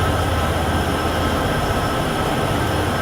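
A heavy grain freight train in Train Sim World 6, loaded to the brim on the Cheyenne–Laramie line, rumbles in a dense, loud, unbroken roar of wheels and engines.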